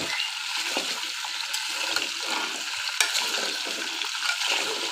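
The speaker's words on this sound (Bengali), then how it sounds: "এই ফোড়নের সাথে এই কচুগুলো আমি হালকা হাতে একটু ভেজে নেব" Mukhi kochu (taro) pieces lightly fried with tempering spices for a koi fish curry give a steady close sizzle with soft stirring scrapes, continuous and even with no voices.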